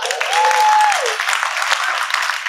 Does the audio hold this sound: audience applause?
yes